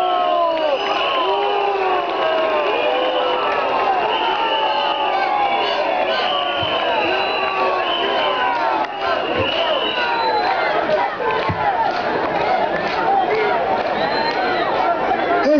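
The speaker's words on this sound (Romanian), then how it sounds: "cu ajutorul premierului Victor Ponta, pe care vă rog să-l aplaudați" A crowd at a political campaign rally in Cernavodă reacts loudly and continuously, a dense mix of shouting, cries and overlapping chatter close by that never lets up.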